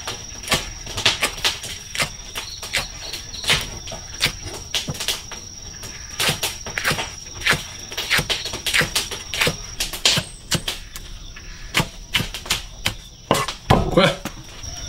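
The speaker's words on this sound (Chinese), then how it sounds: "把辣椒切了" A knife slices chili peppers on a board in quick, uneven chopping taps up close, with louder knocks near the end; no speech over the cutting.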